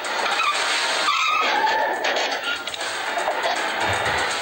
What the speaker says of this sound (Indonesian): dari kejauhan muncul mobil putih melaju kencang tak beraturan dan nyasar ke halaman rumah